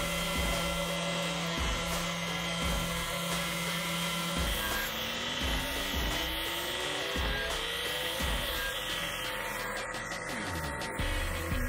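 The sharp corners of a recurve hunter knife blade are ground off, a continuous loud whirring grind with a steady tone that shifts in pitch as pressure changes, running without pause.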